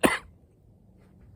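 A single sharp cough, close and loud at the start, then quiet room tone.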